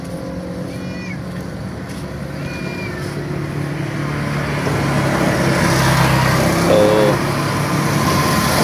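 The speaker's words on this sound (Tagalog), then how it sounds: "medyo maingay lang yung ating video dahil nga po sa mga sasakyan, kahit dito lang tayo sa gilid ng kalsada." Steady roadside traffic noise from vehicles passing along a road beside a construction site for an airport project in Taliptip, Bulacan, a continuous rumble that swells louder in the second half, with a brief spoken word near the start.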